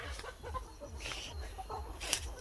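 Aseel and Plucker chickens clucking in short, scattered bursts close by in a range, with low rumbling background noise throughout.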